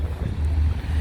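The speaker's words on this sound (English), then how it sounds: "It's a little windy" Gusty wind buffets the microphone at the Golden Gate Bridge parking area with a low, rumbling roar, steady and close, with no one speaking.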